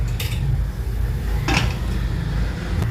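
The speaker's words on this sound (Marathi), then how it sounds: "हे झाकण ठेवते" Two metallic clanks, one brief and one fuller, as a lid settles onto a pot over a steady low rumble of a burner.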